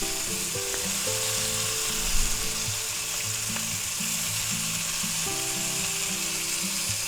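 A sirloin steak sizzles in a pan with butter at a Fourth of July cookout, a constant close hiss and crackle with faint background music underneath.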